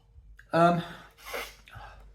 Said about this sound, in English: Let's sniff this again